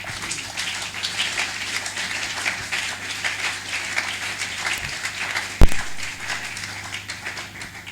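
A church congregation bursts into sustained applause, a dense steady patter of many hands clapping at an even level for several seconds, with one louder knock partway through.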